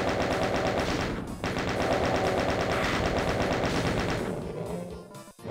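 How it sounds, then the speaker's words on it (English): Sustained rapid-fire chaingun bursts from The Ultimate Doom, a dense, loud, steady mechanical rattle that runs almost unbroken, with a brief gap near the middle and a slight tail-off at the end. "Actually, maybe I want to use chain gun here."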